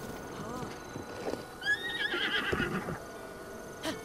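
A horse whinnies clearly in a Link adventure video game, its neigh rising and falling near the middle, with clip-clopping hooves, rustling and a faint voice in the background.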